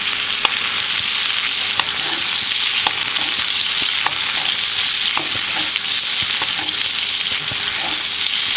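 Steak sizzles steadily in a frying pan as it is basted with melted butter and garlic over lowered heat, a continuous loud frying hiss with occasional spoon clinks and no talking.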